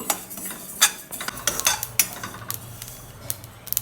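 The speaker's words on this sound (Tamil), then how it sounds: "எள்ளு பொரியுது பாருங்களேன் படப்படன்னு பொரியுது பாருங்களேன்" Sesame seeds dry roasting in a pan give off irregular sharp popping crackles mixed with utensil scrapes and clinks against the pan, close and crisp, scattered unevenly across a few seconds.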